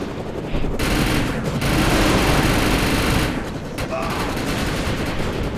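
Automatic weapons fire rapidly in the game Defiance, a loud, continuous rattling stream of shots with two short pauses, close and dominant, with no talk.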